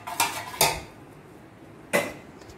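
A spoon scrapes and clanks against a pot while fish biryani is mixed with ghee, three sharp metallic knocks in under three seconds, close by, with no voices.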